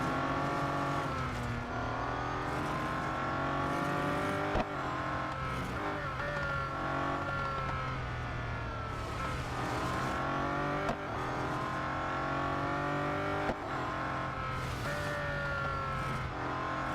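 Race car engines from the mobile racing game Real Racing 3 drone steadily and loudly throughout, with layered revving pitches rising and falling as cars accelerate and shift, plus occasional brief tire squeal.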